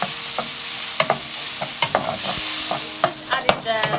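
Diced leek, red pepper, onion and minced meat stir-fried in oil in a wok, with loud irregular scrapes and clacks of the utensil over a continuous sizzle, close up and free of speech.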